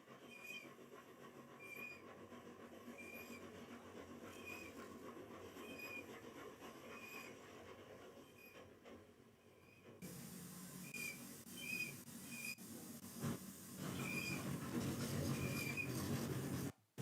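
A 21st-century steam locomotive gives off a steady, loud hiss of steam with repeated high squeals, like dry wheels that need oiling. The sound grows louder and denser partway through and plays alone, with no talk.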